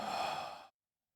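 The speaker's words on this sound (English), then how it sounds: "Please join me as I take a few deep breaths in," One deep exhale through the mouth, a soft breathy rush lasting well under a second and then cut off into silence, close and quiet.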